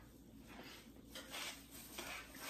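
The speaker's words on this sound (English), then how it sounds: "I'm adding my milk a little bit at a time, and I'm just stirring it together." Milk is added bit by bit to coffee cake batter in a bowl and stirred, producing quiet, irregular wet scraping and soft utensil knocks over a background hiss, with no one talking.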